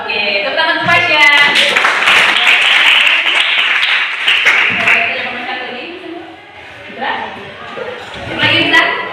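A classroom of students applauds a classmate, a burst of dense clapping that swells, thins out and returns, with a teacher's voice and chatter over it, close and loud.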